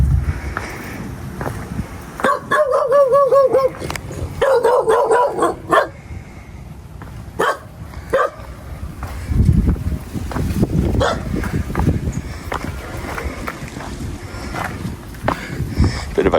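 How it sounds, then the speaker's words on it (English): A guard dog behind homes along an alleyway in Puerto Vallarta, Mexico, barks in repeated sharp bursts, some close and loud, others fainter, with pauses and outdoor background noise between. "Bit of a guard dog, I guess."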